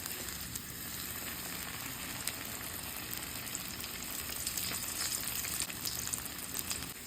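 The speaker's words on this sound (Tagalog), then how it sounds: "nagpainit na tayo ng matika at nilagay din natin yung bawang" Garlic and ginger frying in hot cooking oil, a faint, even crackling sizzle with scattered pops that holds steady throughout, no voices over it.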